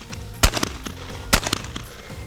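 A pair of shotgun shots at skeet targets on station 2, fired about a second apart, each a sharp loud crack above steady outdoor background noise, with a few smaller clicks and knocks between them.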